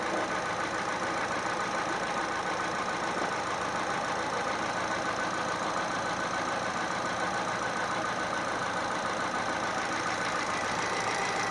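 A 2011 Hyundai i10 Sportz engine idles steadily and evenly throughout, a constant close-up mechanical hum with a faint ticking texture.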